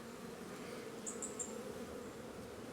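Honey bees hum around an open hive at a farm in August, a steady low buzzing drone that stays even throughout.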